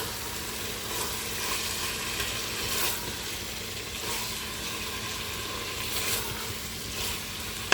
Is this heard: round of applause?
no